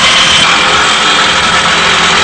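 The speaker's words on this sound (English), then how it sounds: "As you hear the electric jackhammer" Electric jackhammer pounding at an archaeological excavation site, a loud, steady, continuous mechanical rattle close by with no pauses and no voices.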